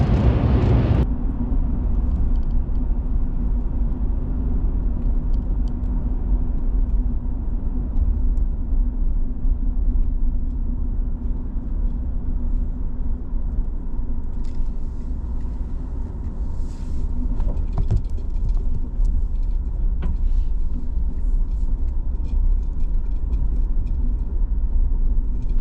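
Inside a moving vehicle towing a trailer, a steady low engine and road rumble drones on without a break, loud and constant, with a few faint rattles and knocks over it.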